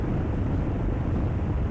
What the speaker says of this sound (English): Ooh, that gust of that cold wind.